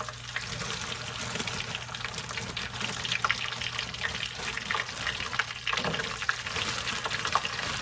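A batch of French fries frying in hot grease for loaded cheese fries gives a steady, close, bubbling sizzle that runs unbroken throughout, with no voices.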